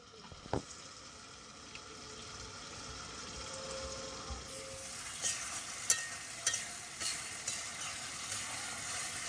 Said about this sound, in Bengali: এবার দেখো মশলাটা ভাজা হয়ে গেছে, তেল ছেড়ে দিয়েছে।